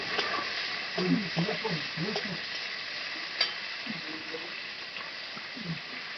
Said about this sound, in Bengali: তো টমেটোটা আমার একটু ভাজা হয়ে যাচ্ছে।